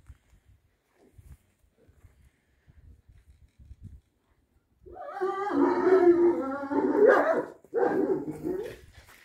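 Faint shuffling and quiet sounds at first, then a nearby dog breaks into a loud, drawn-out howling bark lasting several seconds.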